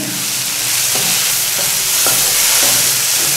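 Raw plantain pieces tossed with salt in a nonstick pan, sizzling steadily while a spatula scrapes and stirs in regular strokes about every half second, close and loud, with no voices.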